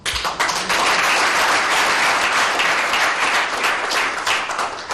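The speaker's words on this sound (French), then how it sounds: "Merci de l'applaudir pour lui montrer une fois de plus notre attachement à sa personne." A large audience at a formal ceremony honouring a First Dame applauds, a loud, sustained, dense burst of clapping that holds steady for several seconds before starting to thin out.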